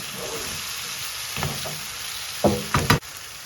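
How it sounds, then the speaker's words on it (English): Tomatoes frying in a pan for an aubergine curry are stirred, giving a steady soft sizzle with a few louder scraping stir strokes near the end, close and without talk. "So there goes more tomatoes. Do a good stir."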